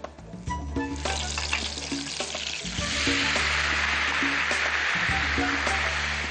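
Jackfruit pieces fry in hot oil with a steady, loud sizzle that swells into a denser hiss partway through, over a low rumble from the stove.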